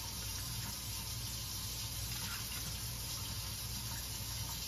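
Water runs steadily from a kitchen tap as it heats up for bread baking, a constant loud gush with no break and no talking.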